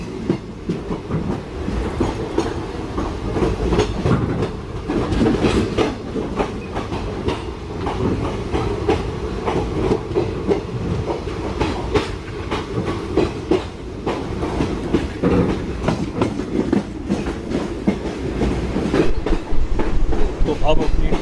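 Aboard the Ranikhet special passenger train on the Jaipur–Jaisalmer line, wheels beat a steady clickety-clack over rail joints under a continuous rumbling roar, heard from inside the carriage with faint background voices.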